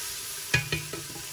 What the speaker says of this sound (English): The chorizo is starting to cook.